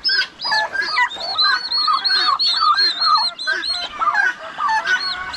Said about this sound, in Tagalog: Sisiyo ng pabo.